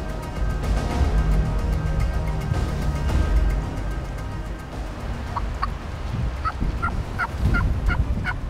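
Wild turkeys in the South Carolina lowcountry gobble from a distance on a cold, windy day, several faint bursts rising over steady wind rumble toward the end.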